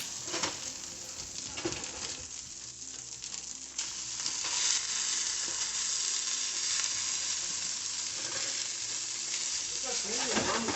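Rice for Chinese fried rice sizzles steadily in a hot pan while being stirred, with scraping and light pattering over a continuous loud hiss and no talk.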